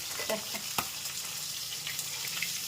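Pieces of rohu fish frying in oil, producing a steady bright sizzle with occasional pops and a single sharp knock near the start, heard close and without talk.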